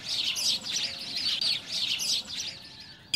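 Several small garden birds chirp and tweet in quick, overlapping bursts, fairly close and steady for about three seconds with no voices.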